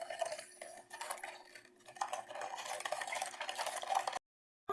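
Sugar dissolved in warm water being stirred into a homemade lemonade mixture, with steady scraping and clinking of a utensil against a container, fairly close and continuous, no talk.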